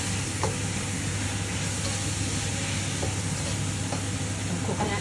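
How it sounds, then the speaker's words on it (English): Onion cooks with coconut milk in a pan, a soft continuous sizzle with occasional light stirring knocks and a low steady hum underneath. "Then you cooking onion and stuff together."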